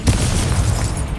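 A booming fiery blast from the Incendio fire spell in Hogwarts Legacy, a dense low rumble that swells at once and roars steadily for about a second without fading.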